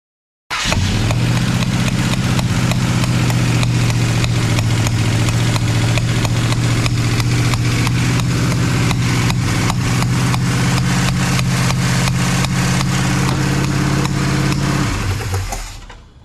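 A 1968 Dodge Charger fitted with a motorhome 440 engine fires up and runs loud and close for about fifteen seconds, a steady rumbling idle with the revs slowly creeping upward before it cuts off.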